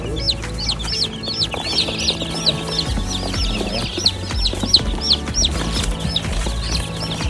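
Baby chicks peep continuously and densely in a farm brooder, a steady chorus of high chirps alone with no talk.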